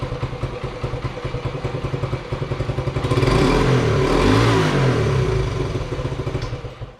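Small kick-start motorcycle engine running, a close, rapid, loud putter that swells into a revving roar midway and then settles back to a steady chug.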